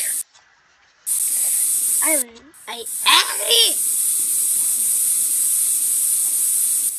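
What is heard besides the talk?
spray paint spraying in a video game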